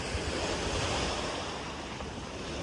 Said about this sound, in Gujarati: સી સાઈડમાં મસ્ત ઠંડો પવન આવે છે પાછો